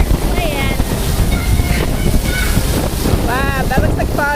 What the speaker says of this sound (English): I'm here in one of the best improvements on the Disney Fantasy, and that is the Aqualab. It is a fabulous splash zone for kids and families